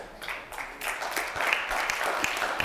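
A church congregation claps during a sermon, scattered, moderately quiet applause with uneven individual claps rising and falling throughout.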